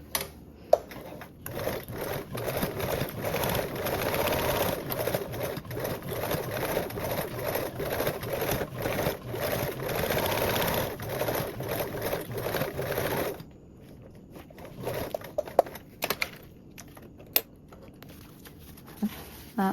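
A sewing machine bastes an eighth-inch seam around a duffle bag, running in a steady continuous whir for about thirteen seconds before stopping, followed by a few faint clicks and handling noises.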